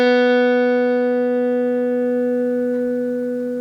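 A guitar freshly strung with new, pre-stretched strings and tuned up rings a single clear chord, close and full, slowly decaying over several seconds with no other sounds.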